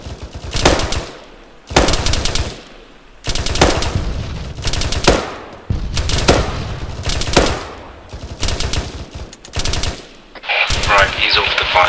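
Bursts of automatic gunfire in a military-style attack/defense PvP drill, repeated rapid volleys roughly every second or two, loud and close, with brief gaps between bursts.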